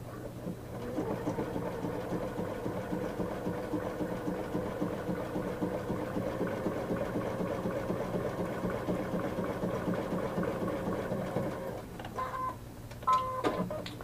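A Baby Lock Ellisimo sewing machine top-stitches a leather seam at a long stitch length, a steady close mechanical whir with fast rhythmic needle pulses running for about twelve seconds, then a brief pause and a few clicks near the end.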